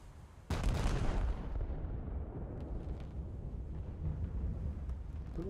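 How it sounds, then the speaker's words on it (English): Torpedoes launch in a naval battleship video game with a sudden loud blast, followed by a sustained low rumbling roar. "There we go. Torpedoes away."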